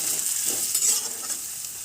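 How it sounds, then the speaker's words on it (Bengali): Chopped onion frying in hot oil, a bright continuous sizzle with soft stirring movement, close and steady, no voices. "পেঁয়াজটাকে আমি একটু হালকা লাল করে ভেজে নেব।"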